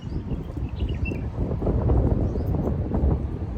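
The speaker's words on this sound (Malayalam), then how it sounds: "നല്ല കാറ്റ്" Strong wind buffets an outdoor spot in cold weather, a steady broadband roar and rumble that swells slightly and holds throughout, with no voices.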